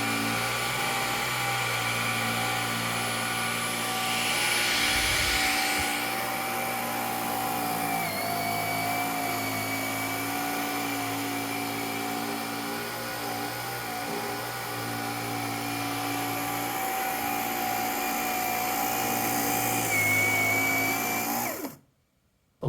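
A Dyson Gen 5 cordless vacuum cleaner runs nonstop while cleaning, a close, steady high whine with a shifting motor pitch, then it switches off abruptly near the end.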